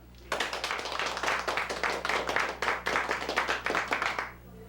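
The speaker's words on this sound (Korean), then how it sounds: "축하를 위해서 박수." Soldiers clap together at a small indoor party marking a sergeant's 30 years of service, a brisk burst of many hands in close rhythm that holds for several seconds then stops.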